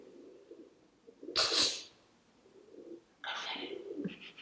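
Two soft, breathy pigeon coos close by in an old asylum at night, separated by a short pause, against a quiet background.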